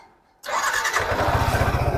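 A used motorcycle at a Kolkata second-hand bike showroom, about 13,400 km on the meter, starts abruptly after a brief quiet moment and settles into a close, loud, even idle thump.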